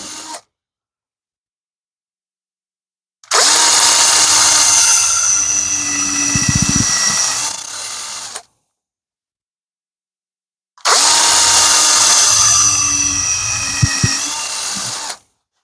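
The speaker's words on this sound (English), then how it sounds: "Notice I'm drilling them on a little bit of an angle." A power drill bores angled holes in two loud, sustained bursts of about five seconds each, separated by silence, its whine steady with slight shifts as the bit bites.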